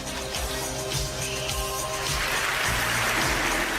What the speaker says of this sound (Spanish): reciban con un fuerte aplauso a Sócrates